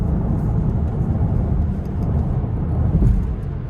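A rear-wheel-drive Cadillac OPTIQ electric car accelerates, heard from inside the cabin as a steady low rumble of road and wind noise that swells slightly toward the end, with no voices.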